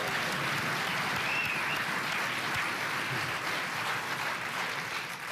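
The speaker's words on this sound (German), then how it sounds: "Applaus, Christine!" Studio audience applause on a German TV talk show, a broad, even roar of clapping from the crowd that carries on steadily at moderate volume.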